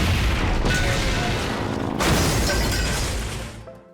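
A truck full of compressed air blowing apart in a Terminator 3 action scene, a loud sustained booming blast with crashing debris, a second surge midway, then fading out near the end.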